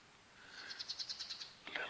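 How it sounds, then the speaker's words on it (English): A small bird calls in the woods, faint and at some distance: a quick series of about eight rhythmic chirps, then a brief sharper note, over a quiet outdoor background. "Just sitting here quiet, listening to that bird go off"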